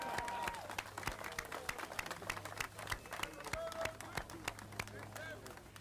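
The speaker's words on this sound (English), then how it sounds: "Let's give them all an applause." Sparse scattered clapping from a small gathering honouring school sports champions, individual claps distinct and faint, with a voice talking underneath.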